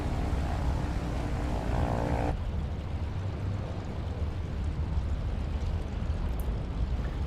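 Small fixed-wing aircraft taking off in Microsoft Flight Simulator during a SwampSTOL eSTOL competition, a steady loud engine and propeller roar that fills the clip, with the tone shifting abruptly about a third of the way in.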